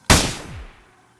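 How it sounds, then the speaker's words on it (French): A single sharp gunshot rings out loudly inside a house, followed by a booming echo that fades over about half a second. "Le coup de feu retentit dans toute la maison."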